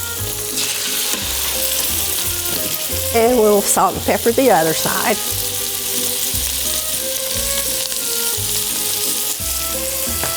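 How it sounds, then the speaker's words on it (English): Chicken sears in a very hot pan for coq au vin, giving a steady loud sizzle throughout, with a brief burst of louder crackling midway and a cook talking over it. "to put the chicken in. And you want it pretty hot to start with, because actually all you're doing is searing it"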